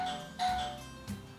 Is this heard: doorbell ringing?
yes